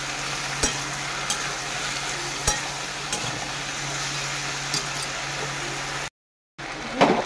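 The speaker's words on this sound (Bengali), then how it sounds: "ভেন্ডিটা আদা রসুন দিয়ে এভাবে কষাতে হবে।" Okra being stir-fried with ginger and garlic in a pan, a steady low sizzle broken by a few sharp scraping stirs, then a brief cut to silence before the sizzle returns.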